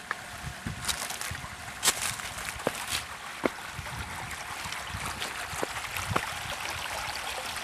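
A creek flows steadily near a house, a continuous broadband wash of running water with occasional sharper splashes and sloshes scattered throughout, moderately close and with no voices.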